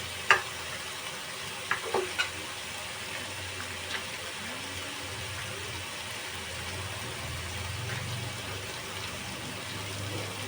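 Gravy for egg tikka masala simmering in a pan, with a faint steady sizzle and bubbling, a few light clinks of a utensil early on, and a low engine-like hum in the background.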